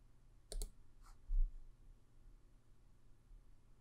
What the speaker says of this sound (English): I'm going to click on publish